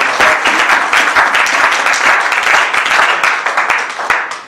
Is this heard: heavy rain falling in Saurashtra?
no